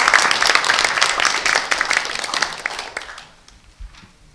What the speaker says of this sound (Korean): 이 정도에서 박수 한번 쳐주셔야 되는 거 아닌가요?